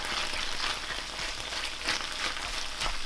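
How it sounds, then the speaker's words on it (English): A single chicken breast fries hard in a hot pan, a loud, steady, dense sizzle with crackling spits running continuously and no talking. "Oh man, that is frying hard."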